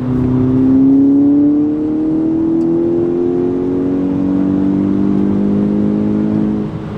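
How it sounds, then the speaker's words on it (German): Tuned 370 hp VW Golf 5 accelerating hard from 100 km/h, its engine droning and climbing steadily in pitch through a long pull, heard from inside the car, loud and continuous. "jetzt fahren wir 100 und ich gebe einfach mal Gas"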